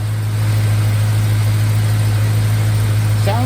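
An LS-swapped 1951 Hudson idles steadily, a loud, even low rumble with a constant hum, close by and unbroken, with a brief higher squeak at the very end.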